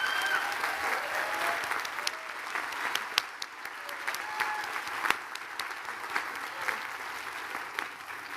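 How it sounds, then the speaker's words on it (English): Applause from the audience at a graduate commencement ceremony, sustained clapping from a large crowd heard at moderate level with a few sharper individual claps standing out. "Can I ask you to give them a well-deserved round of applause?"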